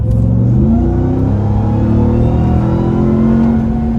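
A 702 hp RAM TRX pickup truck engine revs loud and close, holding gear at 4,000 RPM, its pitch climbing and shifting steadily as it accelerates, with a constant rumbling roar throughout.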